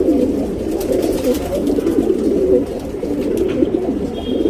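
Close, continuous low cooing of tournament racing pigeons, a soft throaty warble that keeps rolling throughout with little pause.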